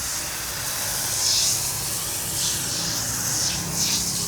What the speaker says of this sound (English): look at this, very clean spray pattern and everything